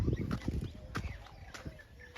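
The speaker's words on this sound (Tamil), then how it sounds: "இந்த மாடுகள் நடந்து" Cows walk along a path near a village temple among paddy fields in Tamil Nadu, making faint, soft, irregular hoof thuds in quiet outdoor ambience.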